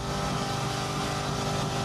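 A car engine runs steadily during a police traffic stop, a loud, even idle hum with a low throb and no voices over it.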